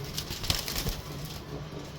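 Pigeons stir nearby, giving soft flutters and faint coos over a noisy background in a short stretch.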